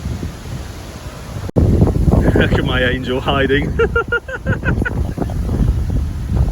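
Strong wind buffets the microphone beside a narrowboat on a UK canal, a loud, rough rumble that grows much heavier after a sharp click and runs under a woman's speech.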